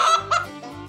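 A hen gives a few short, nasal clucking calls up close, loud and alone, in quick irregular bursts.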